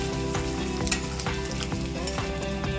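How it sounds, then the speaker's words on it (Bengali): Ginger paste frying in a pan for onion chicken masala, a steady close sizzle with regular scraping strokes of a spoon stirring through it, no talking. "ততক্ষণ আমি নাড়াচাড়া দিয়ে যাব, যে না লেগে যায়"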